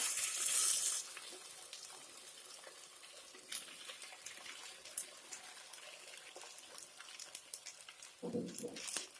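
Sago pearls tipped into a pan of roasted green chillies for Marathi sabudana khichdi, a soft frying sizzle and scraping spreading out after a brief louder rush, with faint clatter in the pan.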